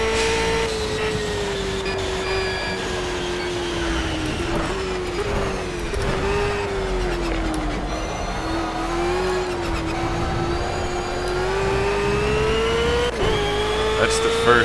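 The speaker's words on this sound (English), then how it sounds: "Oh, the noise of this V8 supercar. That's a good noise." A V8 supercar on a race track drones loudly and continuously, its engine note rising and easing slightly through corners, with a voice over it at times.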